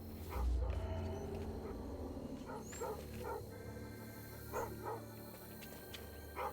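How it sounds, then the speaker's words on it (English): Dogs barking in the video game South of Midnight, several short yips and barks in scattered bursts over a low steady ambient hum, fairly distant and moderate in level. "I hear the dogs."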